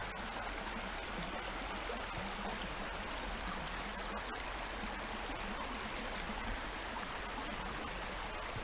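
A small creek, home to rosyside dace and crayfish, flows steadily with a constant broadband rush and trickle of water, close by, with no voices.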